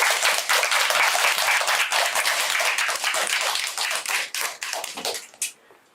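Audience applause at a public tarot lecture, dense clapping from a room of listeners that holds steady, then thins out and trails off into a few final claps near the end.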